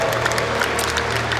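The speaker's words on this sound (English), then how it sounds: "The British riders applauding themselves" Audience and British junior riders applaud during a medal ceremony at the UCI Junior Track Cycling World Championships velodrome in Aigle, a short burst of steady clapping over a low hall hum.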